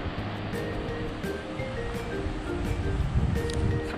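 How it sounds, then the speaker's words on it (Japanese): A river near Minakami in Gunma, Japan, flows with a constant close rushing wash, swelling slightly toward the end, with no voices. "おお、川だね。 川だぜ。"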